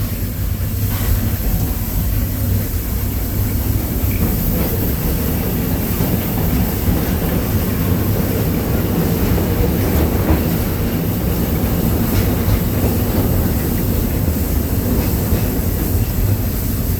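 The Big Thunder Mountain mine train ride rattles and rumbles along its track in a dense, steady roar of wheels and clattering cars, loud and close throughout.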